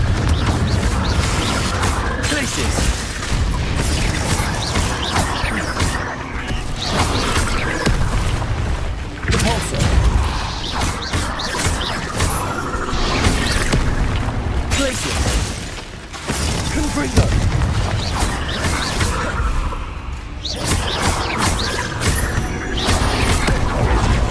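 Confringo fire spells blasting repeatedly in the video game Hogwarts Legacy, loud bursts and crashes over dense game music and effects, with a voice shouting spell names throughout.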